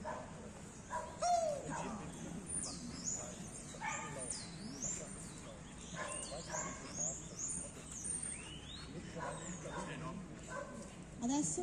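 A military working dog barks and yips repeatedly during patrol and arrest training, with bird calls in the background and someone talking over much of it.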